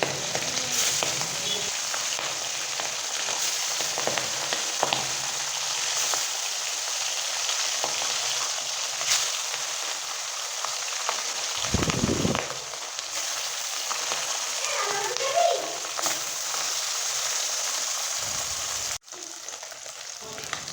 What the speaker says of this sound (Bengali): তেলের ভিতরে মাছগুলো এক একটা করে ছেড়ে ভেজে নেব